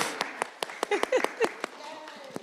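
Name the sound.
audience clapping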